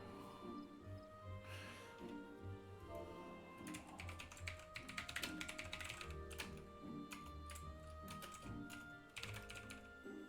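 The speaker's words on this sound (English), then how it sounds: "I don't know why I'm even typing that" Rapid keystrokes clatter on a computer keyboard in bursts of irregular taps, close and fairly quiet, with a faint sustained hum underneath and no voices.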